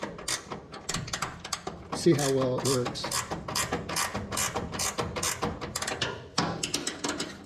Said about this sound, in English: I'm going to just crank this all the way up so you can see